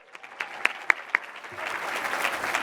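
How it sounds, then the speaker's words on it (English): At a corporate talent conference, a few sharp early claps swell into a steady round of audience applause that continues to the end, with no voices over it. "So let's give them a round of applause."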